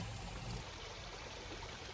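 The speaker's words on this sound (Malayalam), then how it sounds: "അതിങ്ങനെ വെള്ളം ഒഴുകി വരുന്ന ശബ്ദം കേൾക്കാൻ ഒരു പ്രത്യേക രസം തന്നെയാണ്" Steady running water from a small garden fountain feeding a koi pond in Bali, a close, constant trickling rush that holds evenly throughout, with no talking.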